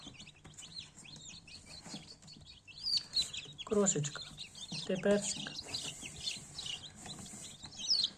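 Black Copper Marans chicks, just hatched, keep up a busy, high-pitched peeping close by, while someone speaks softly over them partway through.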